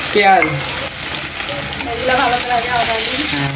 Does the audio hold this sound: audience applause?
no